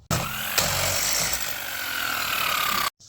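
A Vevor 3-in-1 impact wrench runs with a loud, steady mechanical whir and buzz for nearly three seconds, close by, starting abruptly and cutting off sharply.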